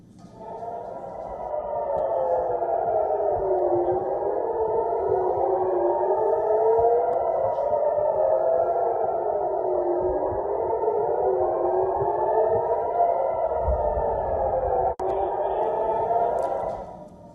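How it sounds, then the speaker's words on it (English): A civil-defense air raid siren sounds in Israel during an Iranian missile and drone attack, with a loud, sustained wail that rises and falls steadily for about fifteen seconds, then a single sharp thump near the end. "The air raid sirens and explosions were heard in cities across Israel"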